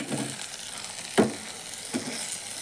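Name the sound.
stirring chopped chapati frying in the pan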